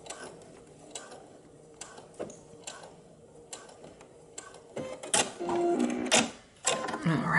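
A sewing machine basting a knit V-neck neckband, running in short bursts of mechanical whirring and ticking that build to longer, louder runs near the end; a voice talks at times.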